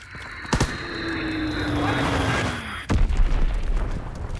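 A Fritz X guided bomb explodes in a war video game: a sharp blast, then a rumbling roar with a falling whine, and a second heavy burst near the end, all close and loud.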